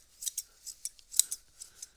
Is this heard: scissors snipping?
yes